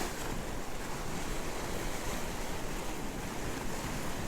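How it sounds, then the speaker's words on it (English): Ocean swells and strong wind, gusting past 20, roll in as a steady, dense roar of surf with wind buffeting the microphone at high tide, loud and continuous with no voices. "Combine that with some decent winds, up to 20 plus, you're gonna get some nice swells."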